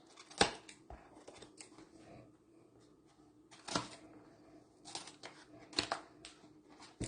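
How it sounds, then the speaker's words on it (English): Scissors snip model kit parts in a quiet room with a few sharp, separate cuts and small clicks spaced across several seconds, with soft handling noises in between. "Even if it means using grandma scissors"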